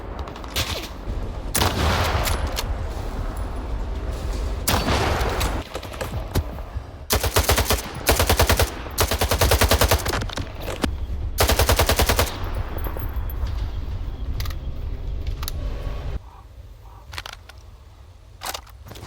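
Heavy gunfire in a firefight with bandits in the video game Stalker 2, loud bursts of automatic fire and single shots in rapid succession, broken by brief lulls, with a background hum.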